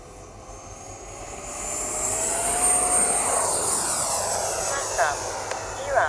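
A Freewing Avanti S V2 radio-controlled jet plane flies past after takeoff, its engine whine rising and swelling in loudness, with someone speaking over it.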